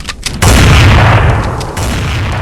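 Heavy gunfire from big guns, a loud boom followed by a sustained rumbling roar of blasts that stays dense and close throughout.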